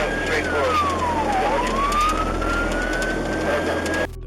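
A fire truck siren wails, its pitch sweeping down and back up once over a steady engine rumble, loud and near, heard from the truck heading toward a fire, cutting off at the end.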